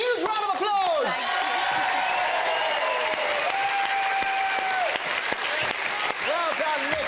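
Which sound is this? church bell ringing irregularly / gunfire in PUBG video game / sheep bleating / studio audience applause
studio audience applause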